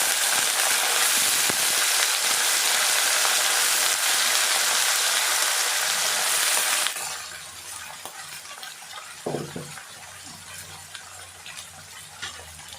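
Brinjal pieces hit hot oil with browned onions in a curry pan, giving a loud, steady hiss that drops abruptly to a quieter, crackling sizzle, with a brief clatter of stirring.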